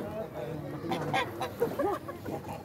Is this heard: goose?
yes